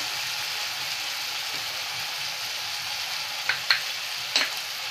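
Onion-tomato masala with coriander powder fries in oil with a constant, even sizzle, broken near the end by a few sharp clinks of a spoon against the pan.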